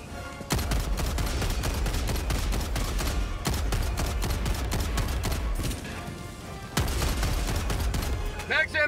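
A Breaker Incendiary shotgun blasting rapidly in Helldivers 2, in three long, loud strings of dense repeated shots separated by short pauses, close and punchy, with battle noise around.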